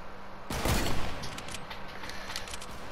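A sniper no-scope shot in Fortnite, a single sharp, loud report followed by a short rumbling echo and scattered fainter clatter, near and brief.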